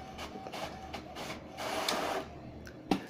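An HP Ink Tank 310 inkjet printer printing a page, a close mechanical whir and the shuttle of the print head in repeated passes, ending with a sharp click.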